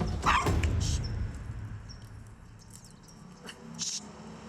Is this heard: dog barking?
yes